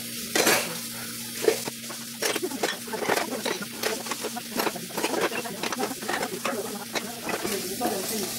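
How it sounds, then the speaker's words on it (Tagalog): Many plates and utensils clatter while being washed, an irregular series of close clinks and scrapes over a faint, steady hum. "nabuhugas siya ng napakadaming pinggan"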